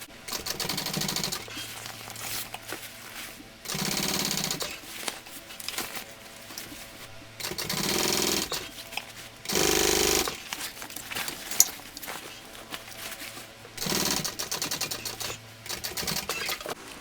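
A sewing machine top stitching a convertible tote bag runs in repeated bursts of rapid mechanical whirring, separated by short quiet pauses, close and steady.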